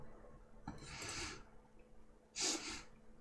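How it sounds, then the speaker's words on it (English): A person sniffs twice through the nose, two quick breathy snorts about two seconds apart, close and fairly quiet, with no talking. "Oh, I'm sorry for my sniffing."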